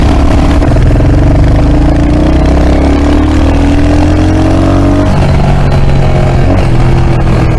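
A Royal Enfield Hunter 350 motorcycle accelerates hard in second gear, its loud, close engine note climbing steadily before a brief dip and pickup as it keeps pulling.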